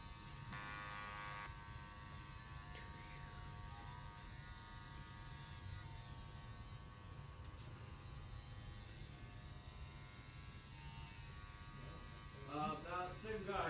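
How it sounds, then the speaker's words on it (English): An electric shaver buzzes steadily against a scalp during a skin fade haircut, a faint, continuous close hum with a few brief clicks near the end. "if you don't use a shaver, how can you blend the line"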